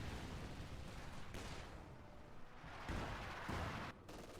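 MG-42 machine gun fire in a Company of Heroes 2 battle on the Rzhev map, heard as a continuous dense clatter of gunfire with occasional heavier blasts, faint and distant-sounding, with no talking.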